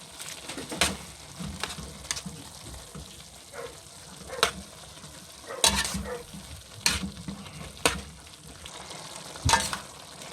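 Ground pork frying in a pan is stirred with a utensil, giving repeated sharp scrapes and clacks at irregular intervals over a steady low sizzle, close and without talk.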